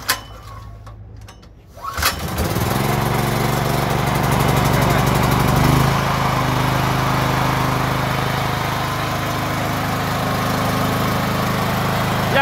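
A Benza BX 6000 6 kW petrol generator cranks with a pull, catches and settles into a loud, steady droning run that continues without any talk.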